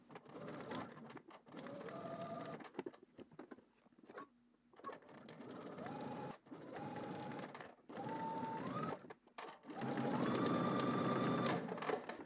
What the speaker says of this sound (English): And then we're going to edge stitch.